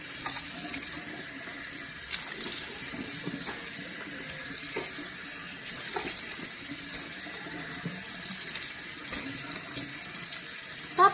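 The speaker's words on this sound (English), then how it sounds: "I'm gonna just rinse off my face real quick" A bathroom tap runs steadily at a sink while someone rinses their face, a constant close hiss of flowing water with faint splashes, no talking.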